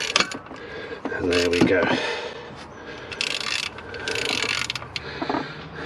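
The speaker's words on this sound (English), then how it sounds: "we need to take our socket, put it onto the tensioner like so" A socket on a ratchet clicks as it turns the belt tensioner on a BMW N47 diesel engine during alternator replacement, with close mechanical ratcheting and creaks in short bursts and someone speaking briefly.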